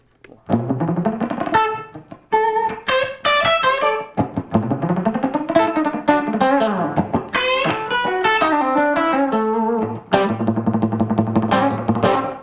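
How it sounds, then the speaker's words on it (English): A fast, distorted electric guitar line, choppy and palm-muted on the low three strings, played alone with steady busy picking and bright sustained notes near the end. "a lot of times I'll do a fast line muted."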